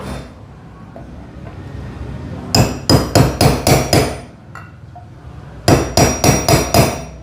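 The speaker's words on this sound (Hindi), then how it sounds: "अब आपको इस पर पंच कर देना है, इस पर रख के इसको आपको ठोक देना है हल्का हल्का सा" Metal hammer blows strike a punch to seat a bush in a mixer jar: two bursts of about six sharp, evenly spaced ringing hits, close and loud, with a quiet pause between the bursts.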